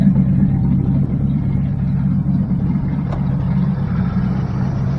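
An engine running with too much choke at low RPM gives a loud, steady, low rumbling drone that holds at an even level throughout.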